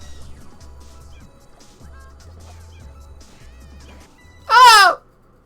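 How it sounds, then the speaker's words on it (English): A pet bird in a household lets out one loud, near squawk after a stretch of quiet low background hum. "Am I hearing birds or something? You better believe you are. There are several birds in my household."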